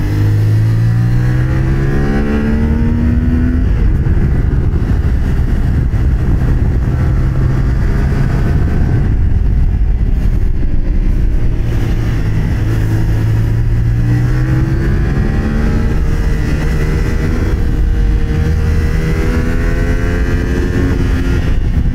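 A Thrike Xcape 1200cc motorcycle engine revs and accelerates hard through a corner, loud and close, its pitch climbing and dipping in repeated surges over rushing wind.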